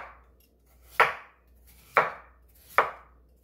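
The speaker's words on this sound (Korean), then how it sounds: "무 3kg를 이렇게 듬성듬성 썰어주세요." A knife chops through daikon radish in coarse chunks, part of about 3 kg cut for seokbakji kimchi, giving three crisp, evenly spaced thuds on a cutting board with quiet pauses between them.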